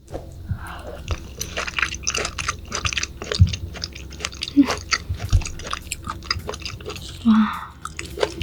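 Close, wet chewing and biting on raw yellowtail sashimi at a meal, with soft irregular squishy crunches and smacks spread across the stretch and no clear speech.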